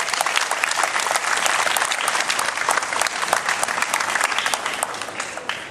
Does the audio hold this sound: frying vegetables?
no